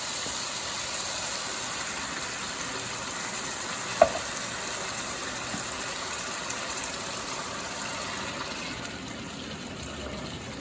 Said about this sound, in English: We're going to add our tomatoes in there now.